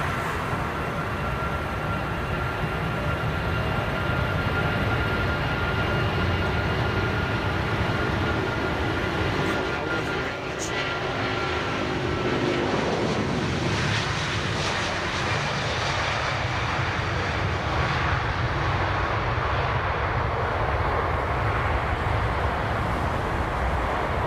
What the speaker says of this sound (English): MEA A330 with, I think, another set of Trent 7s